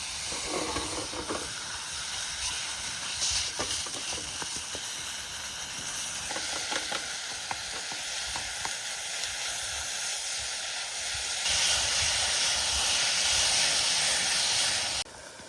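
Beef sizzles in a pan on a camping stove outdoors during a wild camping trip, a steady broad hiss with faint clinks, growing louder near the end before cutting off abruptly, no talking.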